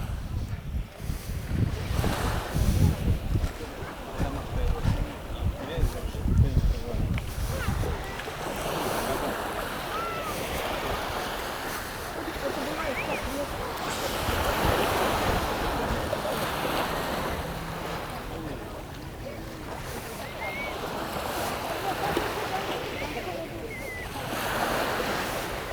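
Waves washing onto Kata Beach, Phuket on a hot morning, a broad steady surf hiss mixed with wind buffeting the microphone, heavier rumbling gusts early on, then an even wash throughout with no voices.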